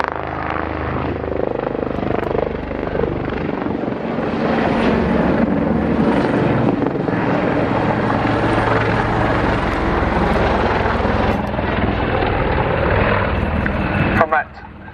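Aircraft fly past at an RAF Cosford air show, a loud sustained engine roar swelling and fading across the sky, with a voice commentating over it.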